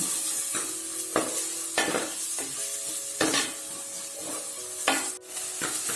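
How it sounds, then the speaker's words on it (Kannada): Two chopped onions frying in a pan for chicken sukka, a steady sizzle under repeated scraping strokes of a spatula, close and regular, with no talking. "2 ಈರುಳ್ಳಿ ಫ್ರೈ ಮಾಡಿದ್ದೀನಿ. ಆಗ ಚೆನ್ನಾಗಿ ಫ್ರೈ ಆಗಬೇಕು"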